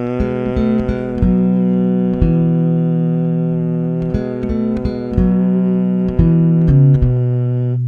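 Bass guitar picking out a song melody as a run of clear, sustained single notes, each with a distinct attack, played alone and up close with no talk.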